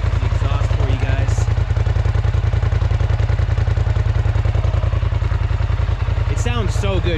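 A 2020 Polaris Scrambler XP1000S idles with a loud, steady, low exhaust pulse that runs throughout, overlaid by mechanical clatter, with brief faint higher sounds near the start and end.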